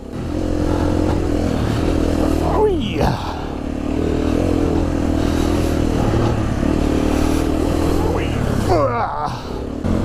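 Continuous engine drone of a KTM 350 EXC-F enduro motorcycle ridden off-road, steady and close throughout, with two sharp rising revs and rattling clatter around the third and ninth seconds.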